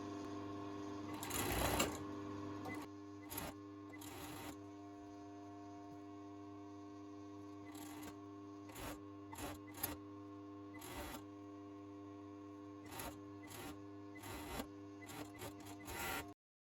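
A sewing machine stitches down trouser hems made from an oversized dress, running in short bursts separated by brief pauses over a steady low hum.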